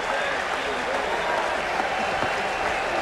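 Baseball crowd at a Florida Marlins home game, the franchise's first ever, against the Los Angeles Dodgers in 1993, on its feet in a steady roar of cheering and clapping, loud and continuous throughout.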